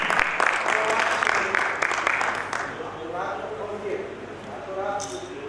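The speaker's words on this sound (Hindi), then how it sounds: "तालियां जोरदार हैं।" Loud applause from the crowd at an International Women's Day gathering in Ranchi, dense clapping for a few seconds that fades out as a voice takes over and talks.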